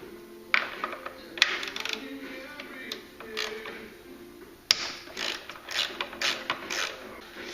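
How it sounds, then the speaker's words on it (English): A ratchet fitted with an 8mm hex bit clicks while loosening the airbox screws on a Mercedes C230 with the M271 engine, quiet, close, with short creaking ratchet runs separated by pauses. "I've just opted for an 8mm hex, and that fits perfectly in here."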